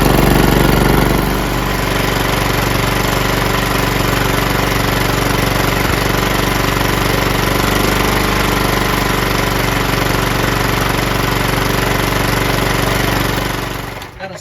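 A John Deere LT160 lawn tractor with a Kohler engine runs after a fuel pump repair, a loud steady close-up drone that holds evenly for about fourteen seconds before cutting off.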